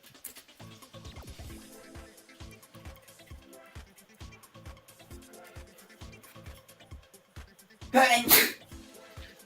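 A child sneezes once, a loud, sharp burst near the end, over steady background music with a thumping beat and some nearby chatter.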